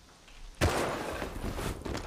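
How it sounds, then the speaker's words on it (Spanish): An incendiary explosion in the survival video game Rust bursts suddenly after a quiet moment, then a broad roaring rush of fire that carries on and flares again near the end. "Una explosión incendiaria"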